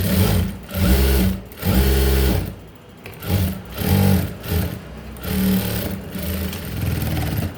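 A sewing machine stitches a blouse in loud, close stop-start runs. Each burst of rapid mechanical whirring lasts about a second, separated by short pauses.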